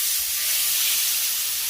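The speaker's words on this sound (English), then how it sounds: "You're supposed to put the steak in the pan and let it wait for you." Steak sears in a hot pan, giving a soft, continuous hiss of sizzling fat for a short stretch, steady and close with no voices.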